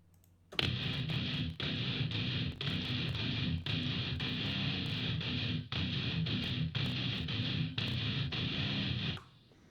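Heavy distorted guitars for an industrial metal action-horror track chug in tight, loud riffs, with abrupt rhythmic stops and restarts that chop the dense wall of sound into repeated bursts for about nine seconds.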